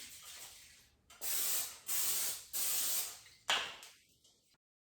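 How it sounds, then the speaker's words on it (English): Short hissing bursts of non-stick cooking spray into a pan, four quick blasts in a row, close and crisp against a quiet background. "Just gonna spray a little bit of non-stick spray in the pan"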